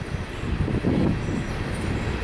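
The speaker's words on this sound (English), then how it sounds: "Look, there's a train." A train rumbles past at a moderate distance with a steady low roar, steady rather than loud, and no voices on top.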